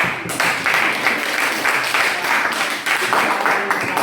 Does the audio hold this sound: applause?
yes